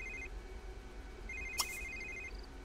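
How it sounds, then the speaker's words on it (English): A phone rings in the video game The Sims 3, faint electronic trilling tones in two bursts with a brief click between them, over a quiet game background. "Okay, answer your phone."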